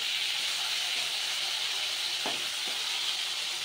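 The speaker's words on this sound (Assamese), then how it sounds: "এয়া মাছ ধুনীয়াকৈ হালধি নিমখ সানি ফ্ৰাই কৰি আছোঁ" Fish coated with turmeric and salt frying in hot oil gives a steady, loud sizzling hiss throughout, with a couple of brief soft clinks of stirring near the end.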